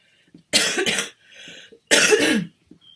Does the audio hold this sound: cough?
yes